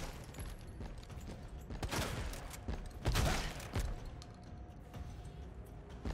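In Resident Evil 2, a shotgun goes off in a few quiet, blunt blasts spread across the moment, with the loudest near the middle, over faint background noise.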